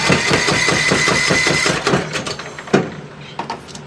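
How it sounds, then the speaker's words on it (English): A neglected old Cub Cadet riding mower engine cranks with a rapid rhythmic starter chug, then catches and sputters unevenly with rough bursts as it tries to run. "And that engine is shaking like crazy."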